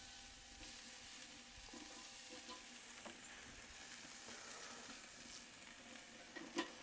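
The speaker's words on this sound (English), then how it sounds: "Getting a little sizzle on them." Meat sizzling on a flaming grill as it picks up char: a faint, steady hiss and crackle of fat spitting, with a few soft clicks and one sharper knock at the end, and no voices.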